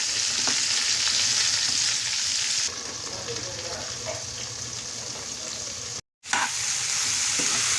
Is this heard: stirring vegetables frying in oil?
yes